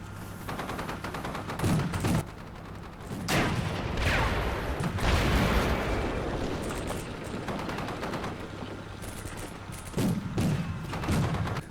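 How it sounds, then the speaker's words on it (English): Tank fire and gunfire in the wargame CMSF 2 come as rattling machine-gun bursts and heavy thumping shots. The exchanges arrive in waves across the stretch at moderate loudness, without speech. "We trade shots."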